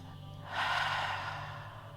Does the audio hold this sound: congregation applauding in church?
no